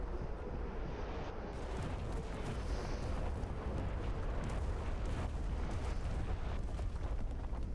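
Artillery rocket barrage striking tanks in the World War II shooter Enlisted, a dense continuous rumble of overlapping blasts and crackling impacts, heavy and sustained throughout.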